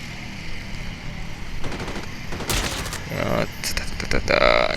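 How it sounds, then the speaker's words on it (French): Gunfire in a Call of Duty Mobile battle royale match comes in scattered bursts of automatic fire and single shots, some sharp and close, others more distant, with faint voices underneath. "je sens qu'on tire quelque part"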